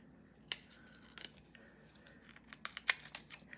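Scissors snip a decal transfer for painted Doc Martens boots, a few sharp, close cuts spaced irregularly with quiet rustling of the sheet in between.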